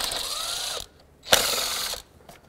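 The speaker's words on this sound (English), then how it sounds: "I'm going to take this engine cover right off with the two 10 millimeter nuts here." Ratchet wrench loosening 10 mm nuts on the engine cover of a 2002-06 Toyota Camry: two close bursts of rapid clicking separated by a short pause, crisp and loud with no speech.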